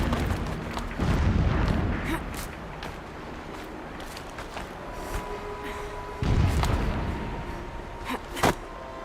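Distant explosions rumble in the game Horizon Zero Dawn, a few low booms rising out of a steady windy ambience, with sharper knocks and clicks scattered between them.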